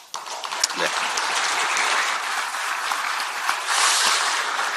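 Sustained applause from newly elected party lawmakers gathered in an assembly hall, a dense steady clapping that carries throughout and swells again toward the end, with speech underneath.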